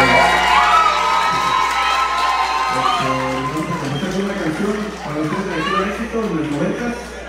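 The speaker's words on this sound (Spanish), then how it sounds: "le damos un fuerte aplauso a para mi señor padre" A crowd at a live regional Mexican band show in Lakewood, New Jersey cheers, whoops and applauds loudly throughout, with shouting voices mixed in.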